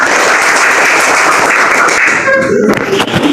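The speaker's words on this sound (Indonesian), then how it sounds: "kasih tepuk tangan buat kalian semuanya" Elementary pupils and their teacher applaud in a classroom, a loud, dense, sustained clatter of many hands that thins toward the end as a voice comes through.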